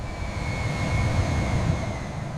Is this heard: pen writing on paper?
no